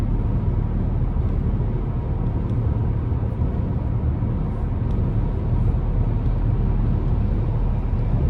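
Cabin of a 2025 GMC Acadia AT4 AWD on the move, a steady broadband road and tire rumble with low engine drone, even and unbroken throughout, no voices.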